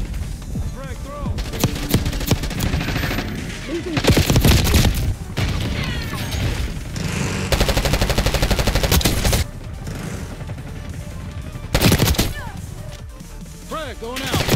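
Call of Duty: Black Ops 6 combat: bursts of rapid gunfire and heavy booming explosions, including a thrown frag grenade, come in loud waves with brief quieter gaps between them.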